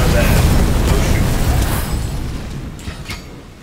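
An artillery shot explodes in the game Remnant: From the Ashes. A loud, heavy boom rolls out into a rumbling tail that fades slowly over several seconds, with a voice speaking over it.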